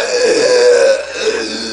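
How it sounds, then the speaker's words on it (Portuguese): A man lets out a long, loud, drawn-out burp close to the microphone, a single throaty eructation lasting over a second with a brief trailing rasp. "ele vai dar um arroto"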